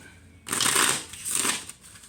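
Tarot cards shuffled by hand during a reading, two quick riffling bursts close up, each about half a second, with a short pause between.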